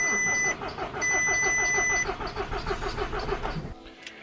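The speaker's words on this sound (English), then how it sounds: "So there you go, it cranks and it doesn't fire." An Audi TT with an electrical fault cranks repeatedly without firing, a rapid rhythmic starter-motor whir with a dashboard warning chime early on, then the cranking stops abruptly.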